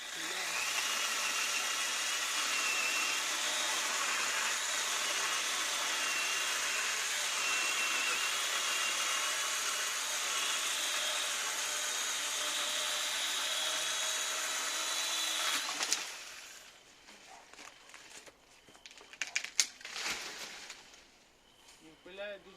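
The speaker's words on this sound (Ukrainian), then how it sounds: "Я пиляю зараз на всю довжину полотна. Йде дуже м'яко." A Metabo MS 18 LTX cordless chainsaw cutting through wood along the full bar length, its steady loud whine running for about fifteen seconds before stopping, followed by quieter handling clatter.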